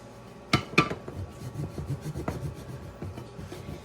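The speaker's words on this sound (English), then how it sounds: "We're gonna grate up some Parmesan cheese." Parmesan cheese rubbed across a small, sharp OTOTO kitchen grater, giving a few short scraping strokes up close with quieter rasping after them.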